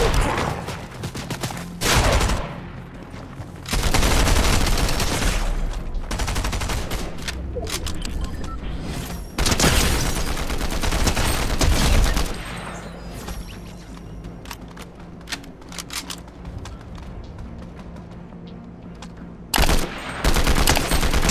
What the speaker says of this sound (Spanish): Que no tengo idea de dónde me están disparando.